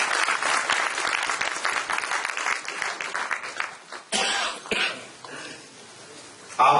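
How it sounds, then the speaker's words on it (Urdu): An audience at a seminar in Barcelona applauds warmly with dense, continuous clapping. It fades into a few scattered claps and light murmuring, then swells again briefly at the end. "لیکن سب سے پہلے آپ کی بھرپور تالیوں میں وہ اپنی سیٹ پہ تشریف لائیں محترم جناب چودھری پرویز اقبال لوسر صاحب۔"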